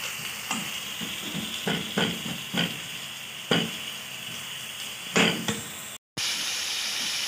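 Chopped garlic and ginger frying in a pan for a kaleji dish, a steady close hiss of oil broken by several louder sizzling bursts as the pieces are stirred.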